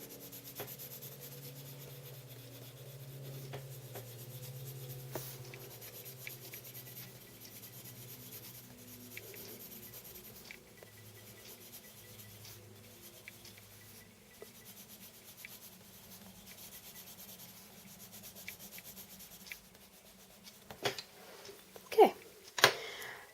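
A coloured pencil lays down an even layer of colour on paper in soft, continuous scratchy rubbing strokes, quiet and close, with a few louder taps and scrapes near the end.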